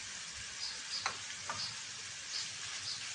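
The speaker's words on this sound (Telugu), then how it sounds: "బాగా ఫ్రై చేయాలండి." Garlic paste and fenugreek leaves fry in a pan with a soft, continuous sizzle, broken by a few faint clinks of a stirring utensil.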